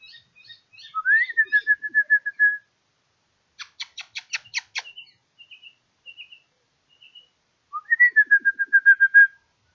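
A pet bird whistles and calls nearby: a rising whistle leading into a steady held tone, a burst of rapid chirps, a few short peeps, then the rising whistle and held tone again, loud and clear against silence.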